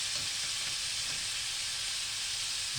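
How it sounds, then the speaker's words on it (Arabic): Black pepper and seven-spice mix toasting with meat in a hot pan, a loud steady sizzle with a broad hiss and no voices. "نقلب. وعايزين التوابل بتاعتنا دي، الفلفل والسبع بهارات، تتحمص"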